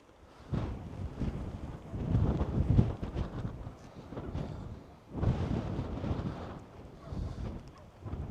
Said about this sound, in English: it's a windy day, but not too cold